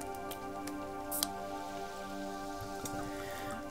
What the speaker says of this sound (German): Jetzt fängt es ja an zu regnen.